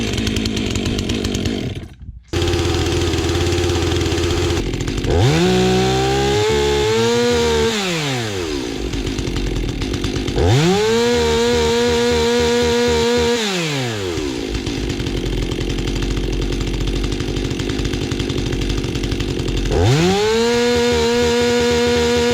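A Stihl-style 362 or 461 chainsaw fitted with a modified muffler runs steadily and loud, revving up sharply into several separate cuts with a short idle gap near the start.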